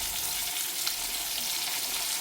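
Sliced onion frying in the hot oil left from frying pearl spot fish, a steady, even hiss of sizzling at moderate level with no breaks and no speech.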